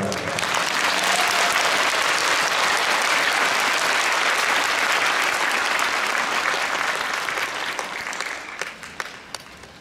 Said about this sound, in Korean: 여러분, 큰 박수로 받으시기 바랍니다